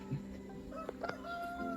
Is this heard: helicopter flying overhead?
no